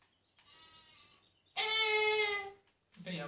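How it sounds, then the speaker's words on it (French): A sheep in Farming Simulator 17 lets out a few wavering bleats, a soft one followed by a loud, drawn-out call and a short final one, fairly clear with little else around. "il y a un mouton"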